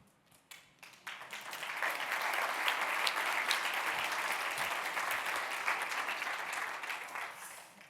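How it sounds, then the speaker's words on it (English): An audience at a conference closing session bursts into applause, starting with a few scattered claps that swell into a full, sustained round of clapping from a large crowd. "give them a very big round of applause"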